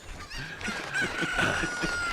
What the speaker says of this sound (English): I just get up on the roof and I grab a chicken and I fly there.